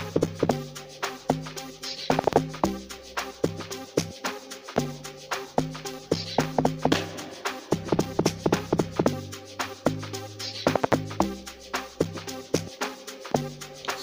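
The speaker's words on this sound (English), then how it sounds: "This is just an original log drum to help boost my Zen log," Layered amapiano log drums in FL Studio Mobile thump out deep, pitched bass notes in a bouncing groove over busy clicking percussion, loud and continuous with no voices.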